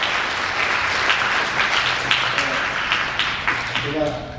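A church congregation claps together during a Korean worship service, a dense, steady wash of applause filling the room, with some voices mixed in near the end.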